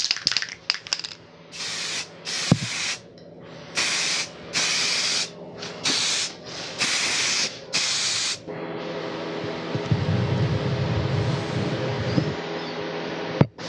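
Aerosol spray paint laying a fourth coat on a Honda Transalp's motorcycle crash bars, a series of close hissing bursts of about a second each with brief pauses, followed by a longer softer hiss.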